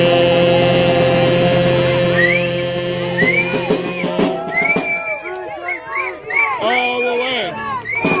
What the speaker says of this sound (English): That is a big crowd tonight.